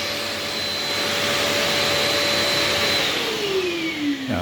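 Workshop dust extractor running continuously with a loud, steady broadband roar, a faint whine falling in pitch near the end as it starts to wind down.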